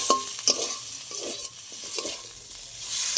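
A dry bitter gourd curry (uchhe chorchori) fries softly in a pan, with a low sizzle and occasional stirring scrapes and taps close by; no voices.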